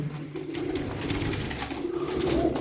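Tumbler pigeons coo in a low, steady murmur, close by, against a busy outdoor background.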